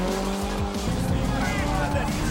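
A car runs hard around a small Japanese-style race track. The engine roars continuously and loudly as the tires squeal and skid through the corners, close to the listener.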